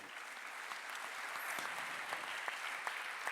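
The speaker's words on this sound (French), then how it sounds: "On peut applaudir Nathalie" A crowd at a live public event claps steadily and quietly, a soft, distant wash of applause that holds evenly throughout.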